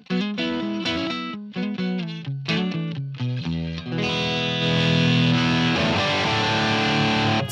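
Distorted electric guitar through a Line 6 POD Express amp with delay, choppy staccato chords echoing in quick repeats, then a sustained, ringing chord swelling and trailing away.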